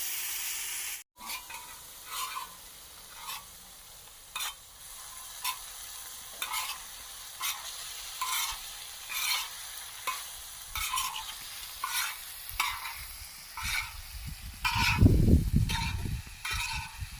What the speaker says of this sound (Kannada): ಇವಾಗ ಬೇಯಿಸ್ಕೊಂಡಿರೋ ಮೊಟ್ಟೆ ಹಾಕ್ತಾ ಇದ್ದೀನಿ.